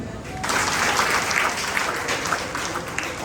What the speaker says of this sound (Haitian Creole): Un nous applaudit.